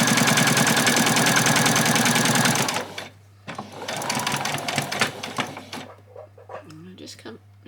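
Sewing machine stitching fabric for an apron, a loud fast continuous mechanical whirr for a few seconds that then stops, followed by a close voice talking over handling noises.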